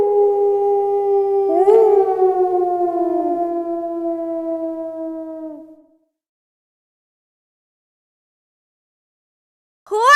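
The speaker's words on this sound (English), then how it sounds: "Wolf." A wolf howl: one long, loud, mournful wail that glides slowly downward for about six seconds, then silence, with the start of another howl cutting in at the very end.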